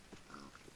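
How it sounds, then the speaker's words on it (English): Pig grunts and oinks in Minecraft, a few short snorts scattered over a steady game background, fairly quiet and close. "So many pigs!"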